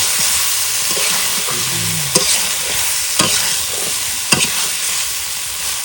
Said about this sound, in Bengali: এবার মাছ দিয়ে দেবো ভালো করে মাছটা মিশিয়ে